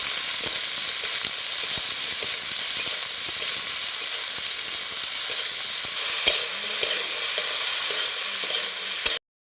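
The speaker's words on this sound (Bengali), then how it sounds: "দেখুন আলু আর ফুলকপিটা একসাথে একটু ভাজা ভাজা করে নিয়েছি।" Potato and cauliflower pieces fry in a pan for a spicy winter-vegetable pitha, giving a steady, close sizzle broken by frequent scraping clicks from stirring, with no voices.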